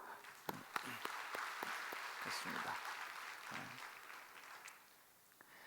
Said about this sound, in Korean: 우리 감사와 또 우리 영광의 박수 한번 할까요?